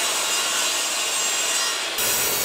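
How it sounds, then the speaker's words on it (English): Hand sawing through a short piece of scrap wood for workbench shelf dividers, a continuous close rasping stroke that ends abruptly near the finish. "So now I'll cut the upper shelf dividers"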